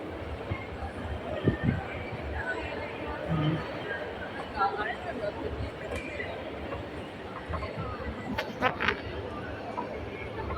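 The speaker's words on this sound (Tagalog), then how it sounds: "Manakay na sad mi train diri." Riding a train in Nagoya, Japan: a continuous low rumble of the moving carriage fills the cabin, with people talking softly throughout and a few brief squeaks and clicks from the wheels and car.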